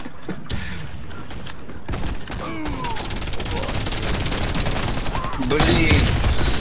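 Rapid bursts of gunfire in the video game Warface, sharp repeated cracks mixed with explosions and clatter, fairly loud and continuous throughout.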